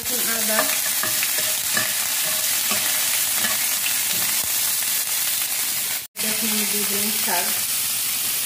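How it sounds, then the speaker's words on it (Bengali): Radhuni seeds and dried red chillies hit hot oil for a tempering, a loud, steady sizzle and hiss with stirring scrapes and clinks and one momentary dropout. "রাঁধুনি আর শুকনো লঙ্কা ফোড়নে দিয়ে দেবো।"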